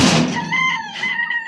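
A chicken lets out a loud, close, drawn-out call lasting about a second and a half, with a strained, rising-and-falling tone.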